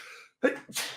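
A man sneezes once in a studio during a sports talk show, a quick inhaled catch and then a sharp, close burst of breath that trails off within a second.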